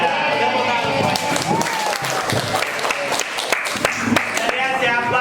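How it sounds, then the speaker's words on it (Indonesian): A class of students claps for a classmate, loud bursts of applause mixed with chatter and voices talking over it. "tepuk tangan semuanya"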